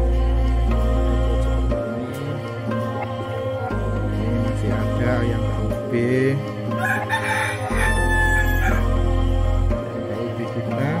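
Free-range village chickens in Madura: a rooster's crowing and clucking sound close by, over a steady, pulsing low hum that continues throughout.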